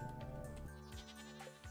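A goat in the Stardew Valley farming game gives a few loud, close bleats, one after another with no talking over them.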